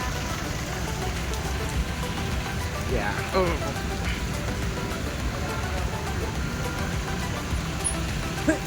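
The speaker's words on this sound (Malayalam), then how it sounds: "നല്ല മഴ" Heavy rain hammers steadily on surfaces, with a low engine hum and occasional muffled voices mixed into the downpour.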